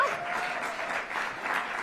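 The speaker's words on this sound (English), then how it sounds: "Come on, hand claps now." A crowd claps steadily at an outdoor National Cherry Blossom Festival kickoff, a dense, sustained patter of many hands at moderate volume with no voices standing out.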